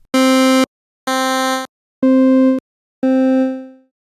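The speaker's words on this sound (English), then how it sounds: "Notice that these are all single-cycle waveforms repeating." Nerd Synth app playing single-cycle sample waveforms as four separate sustained buzzy tones, each held about half a second with gaps between, the last one fading out; changing timbres, no voices.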